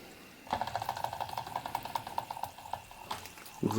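Water boiling in the boiler of a Latimer L4 toy steam engine, a sudden onset of close, steady bubbling hiss with a rapid fluttering texture, then a louder burst at the end.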